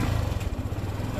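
A sixteen-year-old motorcycle engine runs at a rough, uneven idle close by, steady throughout.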